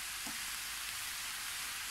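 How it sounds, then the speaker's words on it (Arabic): Vegetables frying in a mix of olive and vegetable oil in a pan, a steady close hiss of sizzling throughout, with no voices. "غادي نقلي هذيك الخضره تتقلى مزيان"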